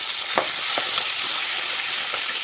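Curry leaves fry in hot oil in a pan, giving a loud, steady hiss with a few soft pops and crackles, heard alone without voices.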